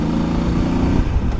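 A Voge DS800X motorcycle engine drones steadily at mid revs, loud and close with wind noise over the whole short stretch and no voices.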